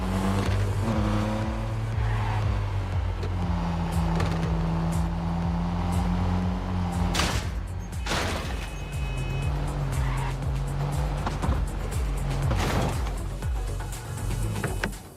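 Car engine roar in the game Neverness to Everness, driven recklessly with sustained loud revving, tire noise and sharp impact crashes scattered throughout, no talking.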